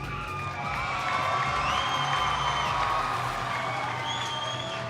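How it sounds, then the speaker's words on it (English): At an FRC robotics district event in Gainesville, a large arena crowd applauds and cheers for the Red Alliance, a sustained wash of clapping with scattered whoops and high shouts carrying through. "can you give a huge round of applause if you're in support of the Red Alliance?"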